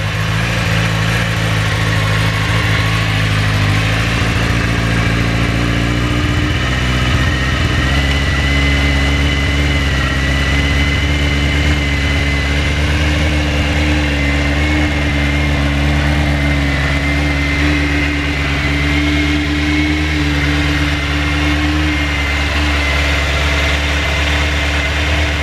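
A carburettor engine fitted with new Iridium spark plugs idles smoothly and loudly, with a constant low rumble that shifts slightly in pitch partway through and carries on without a break.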